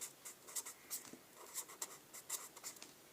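Pen on paper as a math answer is written out by hand, a string of close, soft scratchy strokes in quick irregular bursts.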